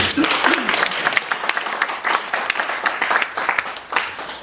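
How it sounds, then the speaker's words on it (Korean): Dense audience applause welcomes a speaker at a missionary forum, a steady wash of many hands clapping close by, with faint voices mixed in. "여러분 박수로 맞아주시죠."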